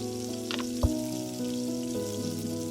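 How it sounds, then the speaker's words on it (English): Butter sizzles steadily in a large frying pan as cod is being pan-fried, a constant close frying hiss with a brief louder crackle near the middle and no talking. "In the largest frying pan you have, I'm going to add in some butter."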